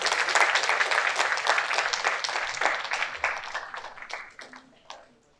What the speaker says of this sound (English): Please welcome this with a loud round of applause.